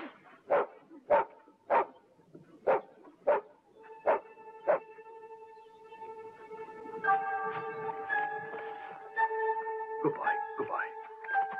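A dog gives a run of sharp, evenly spaced barks at close range, about eight in a row. Sustained tones and voices follow, with a few more barks mixed in.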